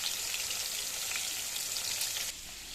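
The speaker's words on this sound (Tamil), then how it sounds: "இப்போ கொஞ்சமாக ஆயில் காஞ்சதும் ஒவ்வொரு மீனாக போட்டு நம்ம பொரிச்சு எடுத்துடலாம்." Fish sizzles and crackles in hot oil in a pan, a steady, close frying hiss that runs unbroken throughout.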